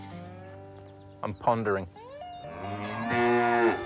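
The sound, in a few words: cows mooing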